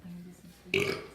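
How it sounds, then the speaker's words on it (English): A single loud, abrupt burp breaks in after a moment of quiet low hum and lasts about half a second before trailing off. "Didn't mean to burp into you viewers."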